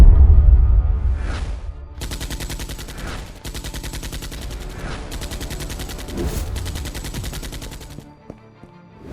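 Gunfire in an animated action scene: sustained bursts of rapid automatic shots in several long volleys separated by brief pauses, loud and close, with a deep impact near the start and almost no talking.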